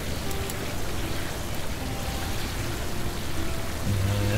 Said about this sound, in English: Oh, I heard the blood rain.